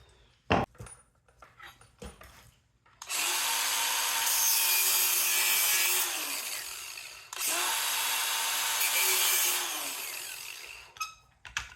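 A transformer ground with a power grinder to check for copper: two sustained, loud grinding bursts of several seconds each, with short bumps and handling noises before and after, no talk.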